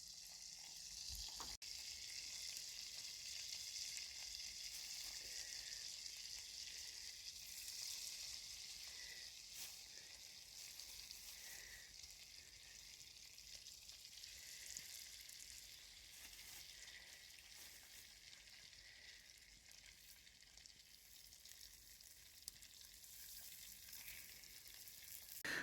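A big fry-up sizzles steadily over a bushcraft campfire in the woods, a continuous crackling hiss at even loudness with no talk throughout.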